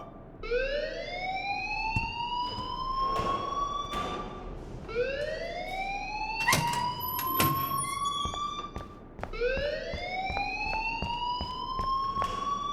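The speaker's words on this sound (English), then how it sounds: "please turn off that alarm since that's your job" A fire alarm wails in the video game Life is Strange, rising siren-like sweeps repeating about every four seconds over a steady low hum, loud and continuous, with sharp clanks cutting in.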